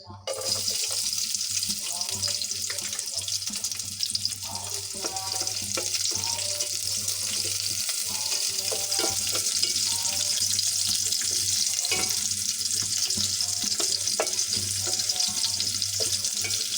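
Onion, garlic and green chilies fry in a hot pot for a country chicken curry, a steady loud sizzle with stirring scrapes and clinks throughout, with occasional brief voice in the background.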